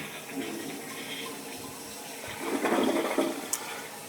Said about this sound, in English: Give that a flush